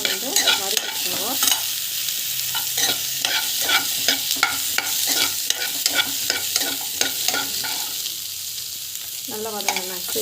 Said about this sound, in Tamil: சோம்பு, ஸோ வெங்காயம் வந்து ஆட் பண்ணிக்கோங்க. ஸோ நல்லா வந்து வதக்கிக்கோங்க.